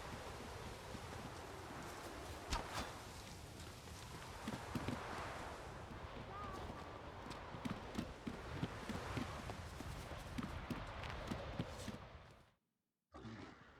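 Horse hooves clip-clop steadily in The Witcher 3: Wild Hunt, a continuous rhythmic trot with rustling and ambient outdoor noise, running for most of the stretch before a sudden cutout near the end.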